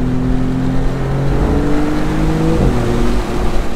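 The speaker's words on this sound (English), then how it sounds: "it's the throttle response and the torque from that V6 turbo" The V6 turbo engine of an open-top Maserati MC20 Cielo pulls hard on a road, its tone climbing steadily through a gear change with a brief dip, loud and close under road and wind noise.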